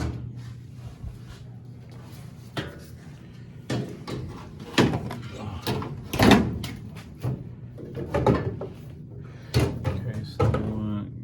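Metal furnace bottom door being fitted back into place, with repeated clanks, scrapes and rattles of sheet metal at close range, while people talk throughout.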